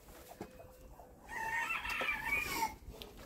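Roosters and chickens in a cold farmyard cluck and crow, one loud, drawn-out crow rising from quieter clucking, with faint scattered bird sounds nearby.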